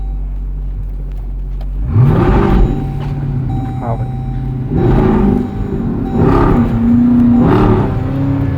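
A Jeep Grand Cherokee with a 6.4L HEMI V8 accelerates hard, heard from inside as a loud engine roar that rises in repeated surges through gear changes, with a brief spoken exchange over it.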